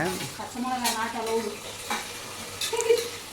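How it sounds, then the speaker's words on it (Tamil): Onion, tomato and green chili sautéing in a pan, a steady sizzle under brisk stirring, with faint voices in the background. "இப்போ வெங்காயம் தக்காளி பச்சை மிளகாய் எல்லாம் போட்டு வணக்கிறாங்க"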